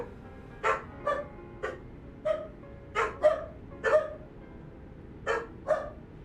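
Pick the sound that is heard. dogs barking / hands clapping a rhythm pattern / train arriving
dogs barking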